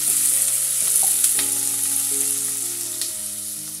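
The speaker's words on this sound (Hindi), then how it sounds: "और फिर इसे ना लाइट ब्राउन कलर आने तक भूनेंगे, बहुत ही लाइट" Chopped garlic and other ingredients fry steadily in a hot pan for a spiced kidney-bean curry, giving a loud, continuous sizzle with a few light stirring knocks and no voices.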